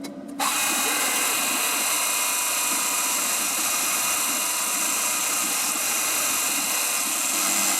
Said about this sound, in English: Now, milling plastic